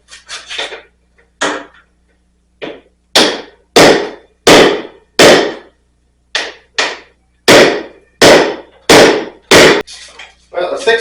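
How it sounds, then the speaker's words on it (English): Hammer pounding a rusty part out of a Honda 200M, a series of about fifteen sharp metallic strikes in uneven bursts, loud and close with short gaps between blows. "I pounded it out of there a little bit more"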